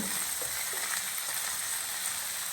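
Onion, garlic and tomato sautéing in a pan, a close, continuous crackling sizzle with faint scraping of stirring underneath, steady and unbroken for the whole short stretch.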